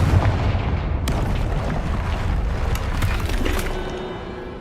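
A Confringo spell explosion from Hogwarts Legacy booms loudly, followed by rumbling debris, crackling bursts and scattered pops that slowly fade.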